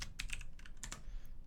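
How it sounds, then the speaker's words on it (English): Quick bursts of keystrokes on a computer keyboard during live coding practice, a handful of close, crisp clicks in an uneven rhythm with no talking. "my keyboard was typing in the wrong place"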